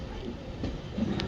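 An Intercity Superfast Express with LHB coaches pulls away from a station platform. A low, faint rumble of rolling stock swells slightly toward the end, with a soft metallic tick.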